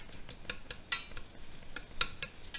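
Ground beef being stirred and broken up in a pan for chili, with faint scraping clinks of a utensil against the pan at irregular intervals, quiet and close with no talking.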